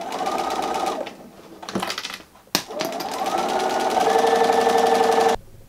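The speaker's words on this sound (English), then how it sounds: "You're gonna sew a seam all the way around the top." A sewing machine stitches a seam around the top edge of a fabric basket, running in steady close bursts with a brief pause and a clunk partway through before a long continuous run.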